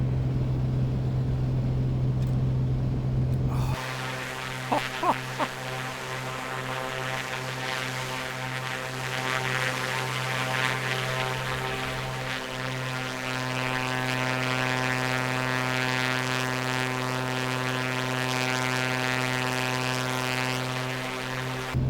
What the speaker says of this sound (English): Listen to the rasp of that engine.